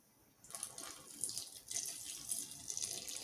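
Water is poured into empanada dough, a faint, soft splashing trickle that begins after a short quiet moment and runs unevenly for about three seconds.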